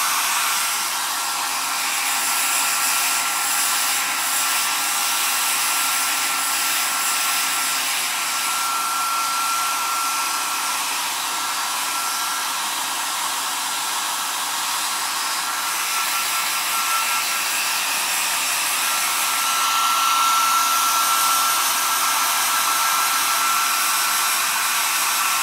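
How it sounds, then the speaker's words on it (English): A hair dryer roars steadily for the whole stretch while hair that has been brushed forward is blow-dried, a loud, close, unbroken whir with a faint high whine and no talk. "Brush it all forward and then blow dry my hair."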